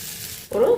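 A brief burst of sizzling as chopped green chilli and onion hit hot oil, sharp and close after a moment of quieter hiss.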